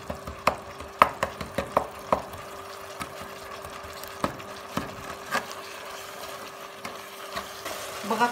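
Meat cooking in a pan with parsley, spices and Maggi is stirred with a spoon, giving a series of sharp scraping and tapping knocks over a quiet sizzle. The knocks come fast at first and then grow sparse.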